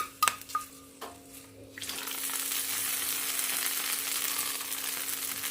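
Hot tadka tempering, with curry leaves in it, hits a chutney: a few sharp clinks and a pour, then a sudden loud sizzle that keeps hissing steadily and close until the end.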